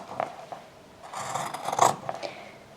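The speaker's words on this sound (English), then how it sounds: "So take your pinking shears and we're going to cut down that 1/2 inch gap." Pinking shears snipping through quilting cotton from layer cake squares for a lavender sachet, a run of close, soft crunching cuts with brief pauses between strokes.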